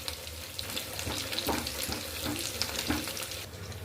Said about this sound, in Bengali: আমি প্রথমে রসুনটা ছেড়ে দিলাম, পেঁয়াজটাও দিয়ে দিলাম